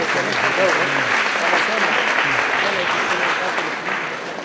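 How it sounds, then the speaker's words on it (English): A full round of applause from an audience at a formal university ceremony, broad steady clapping that fades slightly toward the end, with some voice murmur mixed underneath. "Let us give him a good round of applause for that."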